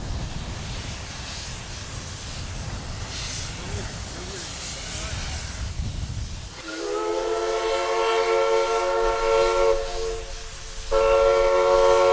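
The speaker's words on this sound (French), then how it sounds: "Le train reprend son chemin vers Réalpes au son d'un sifflet à vapeur américain," Over rumbling rail noise on the Furka mountain railway, an American steam whistle sounds a long, chord-like blast, pauses briefly, then blows again, loud and close.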